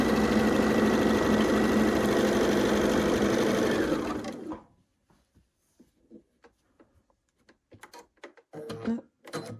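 A sewing machine stitches a quilt seam on a queen-size pinwheel quilt, running steadily for about four seconds before stopping, followed by scattered soft handling clicks and rustles of fabric.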